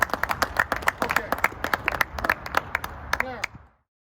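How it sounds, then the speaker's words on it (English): An audience at a community service day event gives a big round of applause: dense, lively clapping that fades out abruptly after about three and a half seconds, leaving silence. "Give me a big round of applause, okay?"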